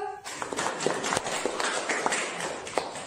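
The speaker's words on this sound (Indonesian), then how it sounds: "tepuk tangan dulu untuk kelompok 1" Students in a classroom clap for group 1 after a presentation, a thin, scattered patter of hands with occasional sharper claps, fairly close and continuing for a few seconds.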